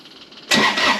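A Kubota BX compact tractor's diesel engine cranks briefly, then fires and catches abruptly into a loud, close running clatter.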